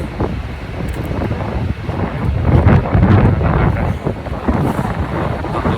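Strong gusty wind on a windy day in London, buffeting the microphone with loud rumbling roars that rise and fall continuously, with no voices heard.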